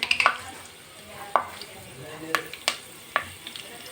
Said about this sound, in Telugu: చండి ఇప్పుడైతే ఆయిల్ అయితే బాగా వేడెక్కింది ఇందులో జీలకర్ర ఆవాలి అలానే కరివేపాకు